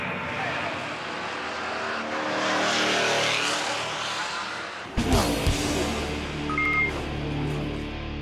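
Euro-Racecar NASCAR series stock cars race at Brands Hatch, a loud sustained engine roar as the field battles, then a sharp burst as cars pass close by, with a faint tonal beep near the end.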